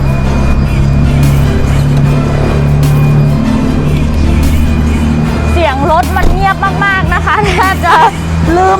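Mercedes-Benz CLA 250 with 2.0-litre engine idling while parked, a steady low hum running throughout, with someone talking over it and a few higher electronic chirps near the end.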